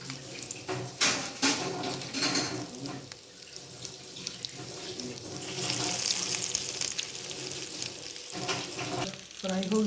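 Cheese-filled potato patties frying in a pan, a soft sizzle mixed with a running tap and water splashing into a sink nearby, plus occasional clatter, without speech.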